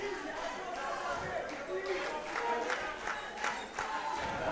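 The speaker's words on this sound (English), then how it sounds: "We're hearing the crowd chant for extra action" Crowd at a CUFF amateur fight chanting during a clinch, a loose rhythmic chant rising over general chatter and murmur from the arena, with a commentator talking over it.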